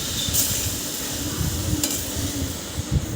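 Semolina upma cooking in a pan with a little water added, giving a steady soft sizzle and hiss with light stirring and scraping, close by.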